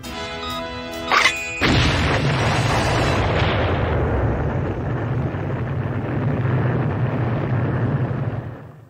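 A bomb blast from the comedy TV series Sledge Hammer, a nuclear explosion: one sudden loud crash that swells into a long, heavy roaring rumble lasting several seconds, with no voices.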